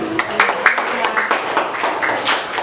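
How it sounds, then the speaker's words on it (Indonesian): Students in a classroom give scattered, uneven clapping for a student group that has just presented, with voices talking over the claps throughout. "Kita beri tepuk tangan dulu."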